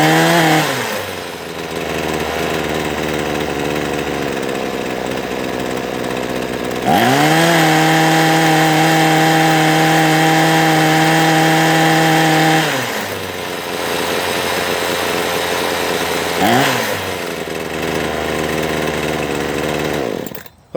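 A Poulan Pro 2-stroke hedge trimmer engine runs continuously and loudly nearby, idling unevenly at first, then revving up to a steady high whine, dropping back, and blipping again, with no talk over it.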